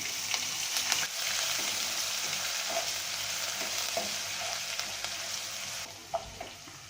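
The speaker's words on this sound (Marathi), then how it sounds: "आता हे आलं लसूण आहे ना फेकलेलं ते घालायचं आहे आणि चांगलं परतून घ्यायचं आहे" Ginger, garlic, curry leaves, asafoetida and chopped green chili sautéing in a hot pan, a continuous close sizzle with soft scraping and stirring strokes throughout, a few louder clinks toward the end.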